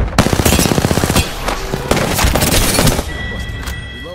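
Rapid video game gunfire, a loud close burst of automatic shots followed by scattered heavier booms and a fading tail, with no talk over it.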